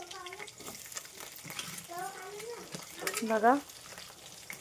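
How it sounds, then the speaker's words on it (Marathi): Chopped onion frying in a hot pan, a steady close sizzle with stirring scrapes, while a person speaks briefly over it and a voice rises toward the end. "आता याच्यात मी कांदा टाकतो"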